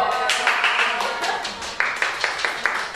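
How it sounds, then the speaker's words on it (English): Audience clapping for a group at an ELT teaching conference, a few quick bursts of hand claps with short sharp taps in an uneven rhythm, close and moderately loud over a murmur of voices. "claps for group A."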